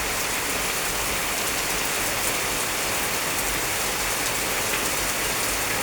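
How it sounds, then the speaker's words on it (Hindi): Heavy rain pours down steadily and loudly, a dense, unbroken hiss of drops striking surfaces for the whole stretch, with no voices. "बहुत तेज़ी से बारिश हो रही है भाई"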